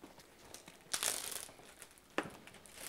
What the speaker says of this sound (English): put the chicken breast in there, in the plastic bag